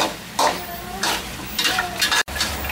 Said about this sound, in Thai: เราต้องผัดให้เนื้อหมูเขาออกน้ำมาหน่อยนะฮะ